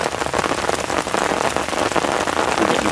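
Steady rain pours onto a quick-deploying rain catchment, a dense, even hiss of close drops that holds without pause and with no voices.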